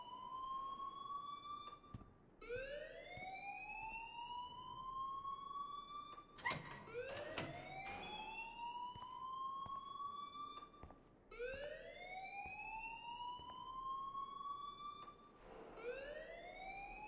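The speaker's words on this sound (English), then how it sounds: "please turn off that alarm since that's your job." A rising and falling electronic alarm wails through a school building in the video game Life is Strange, sweeping upward in repeated loud cycles with a brief burst of other noise midway, with no talk over it.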